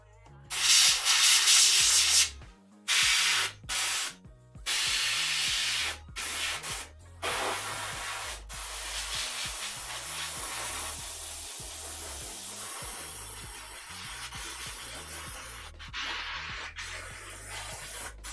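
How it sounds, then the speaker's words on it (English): Airbrush and air compressor spraying paint onto cosplay armor for a Poison Ivy corset, a loud steady hiss broken by short stop-start bursts early on, then one long continuous blast to the end. "I'm glad I turned up the air compressor because I'm just kind of blasting this on here"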